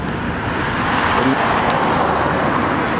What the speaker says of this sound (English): here's another car. I don't know if you can hear it. I can hear it over my shoulder